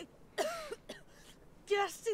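A queen coughing hard in the video game Thronebreaker: The Witcher Tales, with three short raspy bursts of coughing and throat clearing close up.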